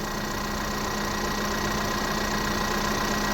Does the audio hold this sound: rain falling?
no